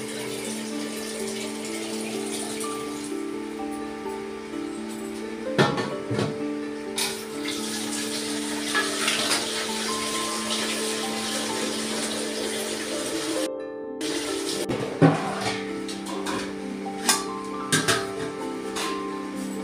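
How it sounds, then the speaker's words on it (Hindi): Water is poured from a half-filled metal pot into a new clay pot, a steady close stream of running water with a few sharper clinks and splashes and a brief pause partway through. "आधी आधी कसेड़ी करके ही मैं मटके में डालती जाऊँगी"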